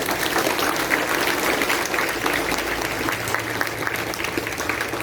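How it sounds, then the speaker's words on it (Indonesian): A crowd claps steadily at a school flag ceremony for National Education Day at SMAS K Pancasila Borong, a dense, even wash of applause held throughout without pause. "Kita tepuk tangan lagi"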